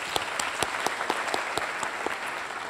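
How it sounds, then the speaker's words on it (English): Conference audience applauding a lecturer at a scientific conference, a dense, steady wash of many hands clapping in a hall, with individual claps popping out of the continuous roar. "big applause for Professor Stan Matwin."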